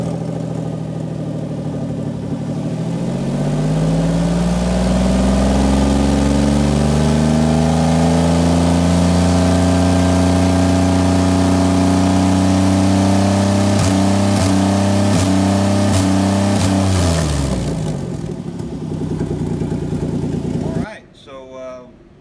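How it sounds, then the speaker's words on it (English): A 2007 Chrysler Town & Country minivan with a suspected plugged catalytic converter starts up close by, settles into a steady droning run for about fifteen seconds, then winds down and stops. "All right, Ryan, can you go ahead and start the vehicle, please?"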